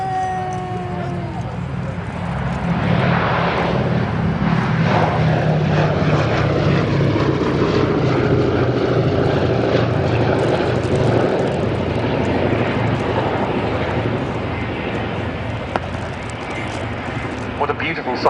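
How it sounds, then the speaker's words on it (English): B-17 Flying Fortress Sally B flying past, four piston engines droning with a throbbing, slowly shifting pitch, loud and sustained as the bomber passes. "This is now Europe's only remaining B-17 in airworthy condition"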